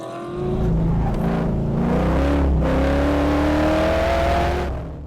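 A race car engine revs up loudly on a track, its pitch climbing steadily as it accelerates toward 160 mph before the first turn, then fades slightly at the end.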